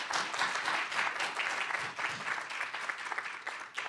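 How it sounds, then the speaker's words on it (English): An audience at an art history conference panel claps steadily and fairly loudly for about four seconds, a dense wash of many hands with no pauses. "So please, let's give them a round of applause."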